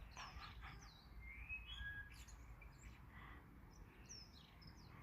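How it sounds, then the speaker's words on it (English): Black songbirds chirp in short, high, scattered tweets and whistled calls, some overlapping, over a low steady rumble of background noise, fairly faint and with no talking. "And the black songbirds."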